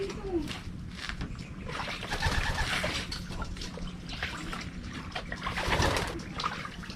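Pigeons coo softly among rustling and low background noise, with a few brief calls and soft thumps close by and a voice faintly present.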